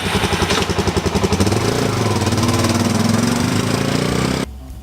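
A Suzuki DRZ400S motorcycle engine running to warm the oil, a loud close thumping single-cylinder idle with rhythmic pulses and a slight rev, cutting off abruptly near the end.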